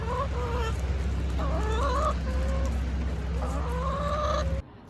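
Backyard hens cluck and chatter in short rising bursts over a steady low hum, several birds close by, until the sound cuts off abruptly at the end.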